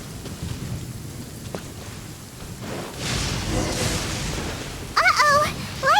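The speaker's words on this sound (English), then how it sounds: "Uh-oh! Lightning storm!" A lightning storm rolls through in the video game Genshin Impact: steady rain hiss builds into a heavy rumbling thunder swell, and voices chatter in over the storm near the end.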